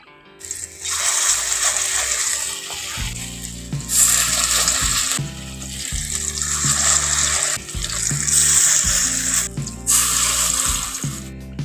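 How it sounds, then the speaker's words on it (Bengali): Pieces of elephant foot yam batter drop into hot oil for fritters, setting off loud bursts of hissing sizzle that surge and settle in waves, with a voice talking between them. "অল্প অল্প করে কেটে নিয়ে এখন গরম তেলের মধ্যে দিয়ে দিচ্ছি"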